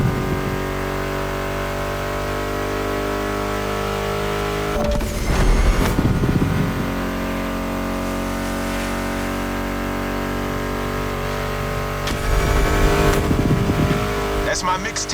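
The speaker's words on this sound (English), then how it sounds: "Meshes well with the sound of the engines, you feel me?" Muscle car engines in The Crew Motorfest hold a loud, steady droning roar with two sharp surges of revving and tire noise, driving on continuously under music and a talking voice.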